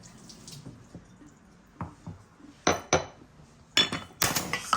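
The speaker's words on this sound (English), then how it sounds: "So we'll go ahead and mix this all really nicely now" Fish batter with garlic and chili is mixed in a bowl, giving irregular clinks and scrapes of utensil on bowl that grow louder and more frequent toward the end.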